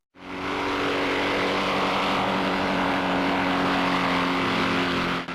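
A propeller-driven car runs with a loud, steady propeller drone and engine roar, strong harmonic hum holding constant throughout, close and unbroken with no voices.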